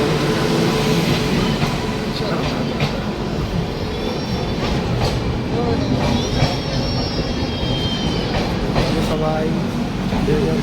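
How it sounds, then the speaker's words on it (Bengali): A passenger train pulls into Bolpur railway station, a loud, steady rumble of wheels and carriages with squealing brake tones, under a crowd of voices on the platform throughout. "আমাদের ট্রেন ঢুকে গেছে।"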